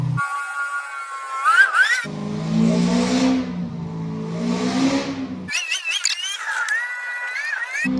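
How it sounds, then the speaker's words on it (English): A Corvette Z06 C6 with a loud aftermarket exhaust warms up and revs hard, sharp rising engine bursts, a deep throaty idle in between, then more revving, heard close and loud with no talking. "Alright, we're gonna warm up the car really quick"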